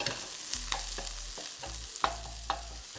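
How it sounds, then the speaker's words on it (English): Garlic and onion stir-frying in a hot wok for Cantonese beef with green peppers in black bean sauce: a steady sizzle broken by quick, rhythmic scraping stirs of a spatula, close and without talk. "I'll pop my garlic in with the onion, and I'm going to give this a really quick mix."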